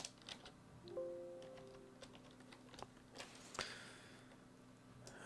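Keys clack on a computer keyboard in quick, light, irregular taps, quiet and close in an otherwise calm room.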